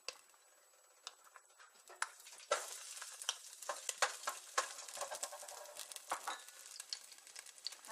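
Garlic fries in oil in a pan on a stove at medium heat, starting as a faint quiet hiss and building into close, busy crackling and popping with light stirring taps, no voices.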